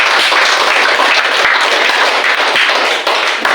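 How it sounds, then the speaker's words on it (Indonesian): A school group applauds a speaker at a teachers' training session, with loud, close, continuous clapping from many hands and a few louder individual claps, no speech over it. "tepuk tangan untuk Ibu Kofi"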